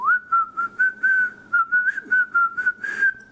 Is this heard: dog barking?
no